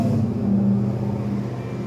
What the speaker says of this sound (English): everybody love these loud ass trucks